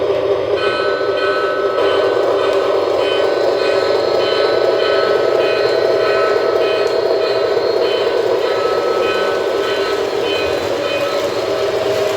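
A model train locomotive running on its track, giving a steady, loud mechanical hum with a buzzing tonal whine and faint rhythmic clicking that continues unbroken throughout.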